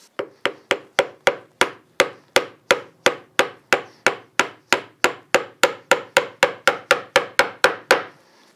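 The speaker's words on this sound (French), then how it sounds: "l'étape suivante, c'est un petit coup de ciseau pour écarrir les mortaises" A wood chisel struck repeatedly to square mortises in a workbench top: a steady, evenly spaced series of about twenty-five sharp, close mallet blows that ring briefly and are heard alone, without talk.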